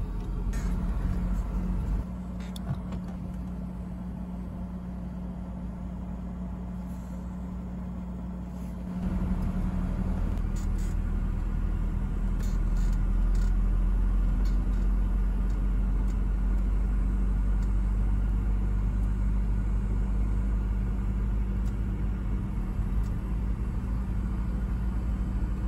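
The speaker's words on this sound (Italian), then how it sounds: "adesso facciamo uno spunto in salita, vediamo se va" Car engine running on LPG gas during a hill start on a slight uphill slope, a steady low rumble that shifts and grows heavier partway through, continuous and fairly close, with no talk.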